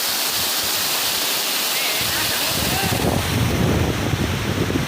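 Loud, steady rushing water of the Gordharo River in Nagarparkar, Tharparkar roars continuously nearby, growing heavier and fuller midway, with wind buffeting the microphone.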